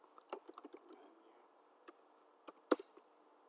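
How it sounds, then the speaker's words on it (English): A module name is typed on a computer keyboard, a sparse run of soft, nearby key clicks with one sharper final tap, over a quiet background. "write the name of the module like manufacturing and click on enter"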